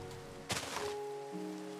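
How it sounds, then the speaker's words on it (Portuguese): Rain falling over a village in the video game Minecraft, a soft continuous hiss with a brief louder burst, layered with sustained game tones and no talking. "Tá chovendo, é só na parte Nossa, da vila aqui."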